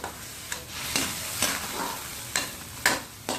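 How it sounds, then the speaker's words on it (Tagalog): Ground meat sautéing in hot oil for ginisang Baguio beans is pushed around the pan, a soft sizzle broken by about six sharp scraping strokes of a spatula at irregular intervals, close and clear with no voices. "Halo-halo na po natin yung giniling."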